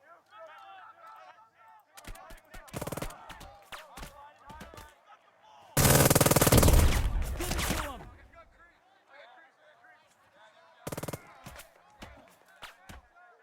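Gunfire from the WW2 strategy game Burden of Command: scattered sharp single shots, a loud dense volley of rifle and machine-gun fire lasting a couple of seconds, then a few more isolated reports, with faint murmured voices underneath.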